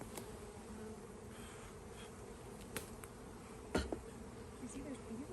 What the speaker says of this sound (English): You see there's bees over